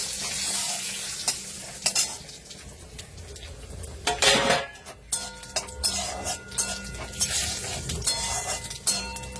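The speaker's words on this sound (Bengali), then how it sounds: "এবারে শুক্তোটা ফোড়ন দেব" A tempering of fennel, panch phoron, radhuni and bay leaf sizzles in hot oil for shukto. Loud metallic stirring clinks and scrapes come close and keep an uneven rhythm, with a big hissing surge in the middle and no speech.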